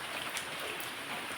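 Morning rain falls steadily, a soft, even hiss of drops with no other sounds.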